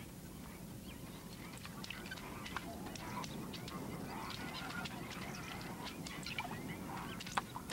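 A flock of white-faced whistling ducks calls along the riverbanks of the Okavango wetlands. Many high, sharp whistles come faintly from a distance over a steady low outdoor ambience.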